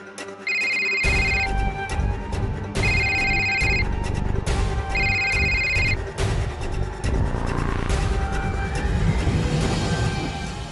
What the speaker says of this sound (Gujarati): કનિકા ભાભી ફોન નથી રિસીવ કરી રહ્યા